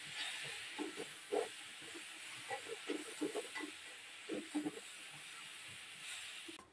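Beguni, battered eggplant fritters, frying in hot oil, a soft steady sizzling hiss with scattered faint pops and bubbles throughout.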